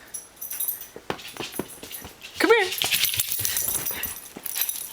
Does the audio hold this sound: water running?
no